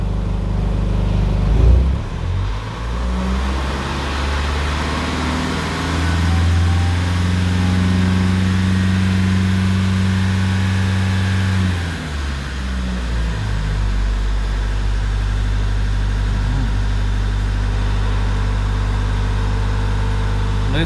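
A Mercedes W211 with a 722.6 automatic gearbox idles nearby as a steady, loud engine drone. The engine note drops and then holds as the throttle is released, with a brief dip and a recovery partway through.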